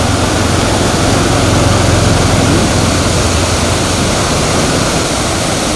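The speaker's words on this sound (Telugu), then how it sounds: "ఇదైతే చేతపల్లి వాగు చూడండి" Rushing water of the Seethapalli stream waterfall near Rampachodavaram pours steadily, a loud, dense, unbroken roar with no talk over it.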